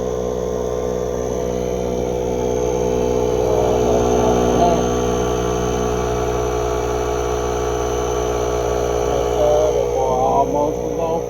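A Toyota Celica engine idles steadily after being freed from a winter storm, a constant low drone with a faint whirring hum throughout, fairly loud and close, with a voice talking over it.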